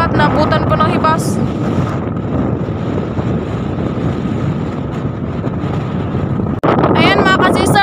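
Amihan northeast monsoon wind blowing at sea, a loud continuous roar buffeting the microphone with a boat engine hum underneath, voices speaking briefly at the start and end.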